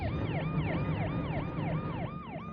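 A Red Cross ambulance siren in Kenya, responding to a road traffic accident involving a truck, wails loudly and close by in a rapid, steady up-and-down yelp over constant engine and road noise.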